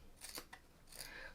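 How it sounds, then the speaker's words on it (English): Tiny scissors snipping quilting fabric for elongated hexie patches, two or three quick close crisp cuts, quiet and isolated. "And with the world's tiniest scissors."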